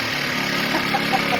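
A Generac 1200-watt portable inverter generator runs at a steady, close, moderately loud hum with a faint buzzing rattle throughout.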